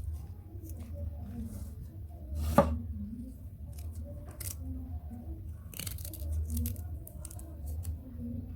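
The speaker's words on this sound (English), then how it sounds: "So I'm just going to dice it as well" A knife dices peeled ginger into small pieces on a board, faint, close chopping taps scattered through the passage, with one sharper knock and a soft, hollow background hum and no talk.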